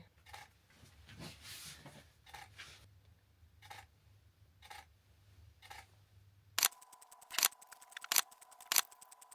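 Sharp, crisp camera shutter clicks repeat at a steady interval near the end, each one distinct. Softer, irregular handling clicks and taps come before them.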